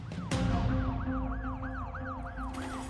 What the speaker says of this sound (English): there was already an ambulance racing to the scene